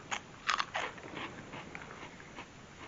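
Imported potato chips of the hollow type from Japan and Thailand crunch in a few crisp bites up close, followed by quieter chewing with no talking.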